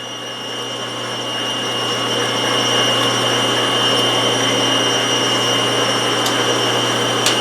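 A steady mechanical whine and hum of a drill press drilling a metal nut with cutting oil, with a constant high tone and faint metallic ticks throughout.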